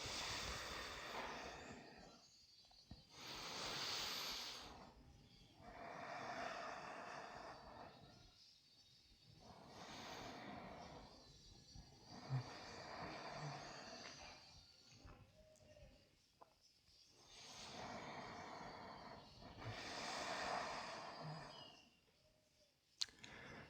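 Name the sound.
slow deep breathing during yoga twist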